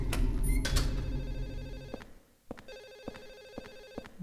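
An old-style telephone rings repeatedly in Silent Hill 4: The Room, its bright metallic bell bursts pulsing at an even rhythm after a stretch of louder game noise, heard fairly close and alone.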